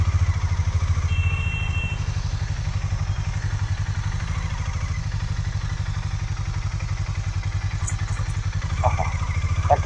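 A Harley motorcycle engine rumbles steadily on a morning highway ride, a loud, close, continuous low throb with an even pulsing beat that lasts throughout.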